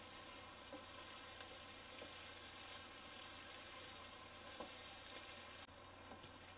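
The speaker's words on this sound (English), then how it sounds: "You need to fry them really well with the mince." Mutton mince sizzling steadily in a pot, a continuous close hiss and crackle with a few soft stirring knocks, no voices.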